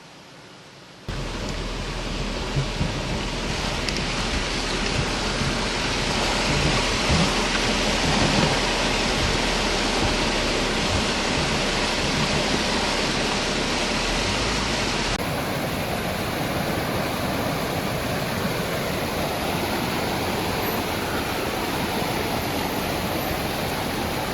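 A river flows over stones with a loud, steady rush of water that holds unbroken and close throughout.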